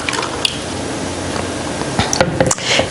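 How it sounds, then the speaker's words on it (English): Room-temperature tap water poured over a green tea bag makes a close, soft wet splashing and trickling, with a few small squishy gurgles and drips near the end. "We'll add tap water to one"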